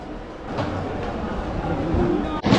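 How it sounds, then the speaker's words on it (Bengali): A passenger train pulls out of Sealdah station, a steady rolling rumble heard from inside the carriage with a faint rattle throughout. "সঠিক টাইমে ট্রেন ছেড়ে দিল শিয়ালদা স্টেশন"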